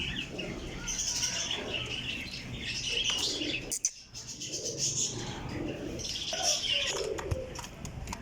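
Teddy pigeons in a loft coo softly with scattered chirps and a brief flutter of wings, a steady low murmur of birds close by.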